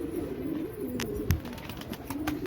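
A pigeon close by gives a low, continuous rolling coo, with a few light taps and clicks over it.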